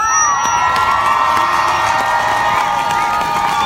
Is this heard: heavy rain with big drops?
no